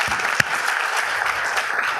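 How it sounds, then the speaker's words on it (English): Dense applause from the audience at a Downey city council meeting, a continuous even roar of clapping, fairly loud and close, with no talk over it. "Can we give her a round of applause?"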